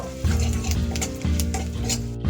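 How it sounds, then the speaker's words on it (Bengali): Nigella seeds and dried red chillies are tempered in hot oil in a pan for a Bengali potato and prawn dish. A steady, close sizzle and crackle runs throughout while a spoon stirs, and no one speaks. "তেলেতেই আমি নিয়ে দিচ্ছি কালো জিরে আর শুকনো লঙ্কা ফোড়ন দিয়ে একটু ভাজা ভাজা করে নেব"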